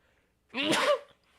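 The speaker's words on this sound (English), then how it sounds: "I'm gonna sneeze." A single sudden sneeze bursts out close to the microphone and lasts about half a second, with near silence before and after.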